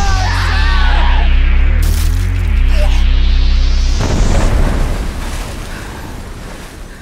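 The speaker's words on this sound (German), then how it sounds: "Ich wusste gar nicht, dass Haie explodieren." A shark explodes in a 2014 short-film sound effect: a loud low drone with sweeping whooshes builds, then a broad blast erupts and slowly fades over several seconds.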